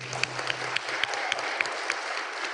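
Applause from an audience at an engineering awards event, a steady, moderately loud clatter of many hands with a few sharper claps standing out, continuing throughout.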